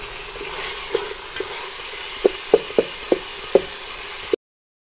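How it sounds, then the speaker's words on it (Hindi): Ingredients for chicken corn soup frying in a pan, a steady soft sizzle with several sharp utensil knocks against the pan, close, the last second silent. "देखें अच्छे से हमारे ये फ्राई हो रहे हैं"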